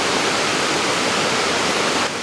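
Water gushes out of a rock in the Great Smoky Mountains near Cades Cove, a loud steady rushing roar close by, broad and unbroken with no voices.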